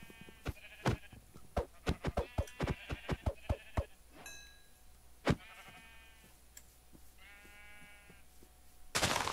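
Sheep bleats in a survival video game come twice, a wavering call in the middle and another near the end, amid a rapid series of sharp hitting or punching thuds.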